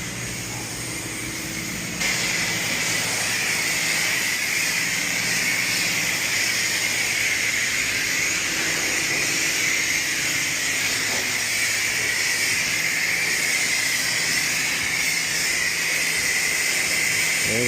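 A car wash pressure washer wand sprays water in a steady, loud, unbroken hiss that starts abruptly and holds for the rest of the stretch.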